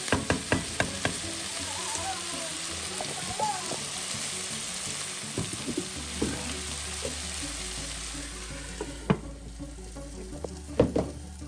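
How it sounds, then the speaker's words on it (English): Onions, ginger and garlic with beef sweating in a covered pan, giving a soft, steady sizzle with scattered light clinks and taps throughout. "put a lid on it so that the onions and everything can sweat and blend really nicely"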